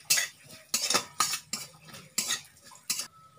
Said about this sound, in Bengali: তারপর দিয়ে দেব নারকেল কুচি, কয়েক সেকেন্ড নাড়তে হবে।